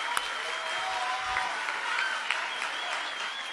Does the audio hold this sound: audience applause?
yes